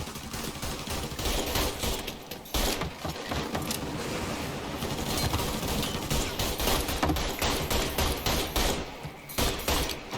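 Sustained gunfire in the Mafia 3 video game, dense bursts of rapid automatic shots and loud cracks filling the whole stretch with barely a pause.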